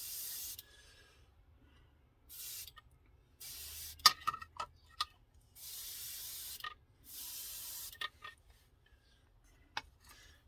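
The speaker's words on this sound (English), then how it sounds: "Okay, so now we're going to spray a little on the top here, trying to avoid my periscopes as much as possible." Gloss coat being airbrushed onto a 1/35 scale model tank, several short hissing bursts of spray separated by pauses, with small clicks and taps between them.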